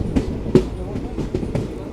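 Train on the Vijayapura–Mangaluru route rolling into Davangere railway station, a steady rumble with rhythmic wheel clacks heard from inside a coach.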